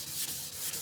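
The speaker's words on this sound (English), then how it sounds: "sand this just enough to where that orange peel is gone" Fine 1500-grit sandpaper rubs across the painted trunk lid of a 1977 Camaro Z28, leveling orange peel. A soft, steady hiss with faint rhythmic back-and-forth strokes, quiet and close, with no voices.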